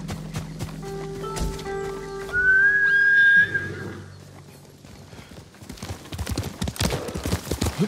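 Rhythmic clip-clop of horse hooves in Ghost of Tsushima, joined by a whistling tone and a brief whinny midway, then brisker galloping hoofbeats toward the end.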